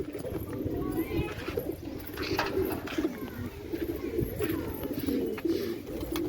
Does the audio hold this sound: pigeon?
yes